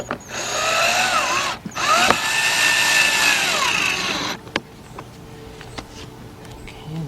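A power tool drives the two screws holding a cover in place during AC evaporator core replacement on a 2008–2011 Ford Focus: a loud, close whirring run with speed changes, then quieter handling clicks.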